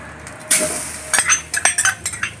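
Grated coconut dry roasted without oil in a heated clay pot over a medium flame, heard as a brief scrape followed by a run of short clinking stirs and scraping strokes, close and fairly quiet.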